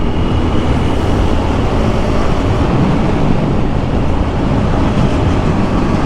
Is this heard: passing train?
yes